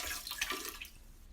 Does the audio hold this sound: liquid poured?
yes